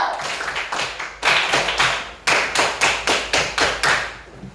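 A group claps together in a quick rhythmic pattern, sharp bursts in a steady beat that pauses briefly and starts again.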